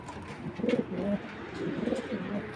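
Racing pigeons coo softly nearby in a few low, throaty bursts, with light background noise and no talk.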